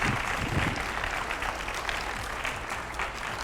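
Steady, dense applause from an audience at a public interview event, clapping continuously at an even loudness throughout with no pauses.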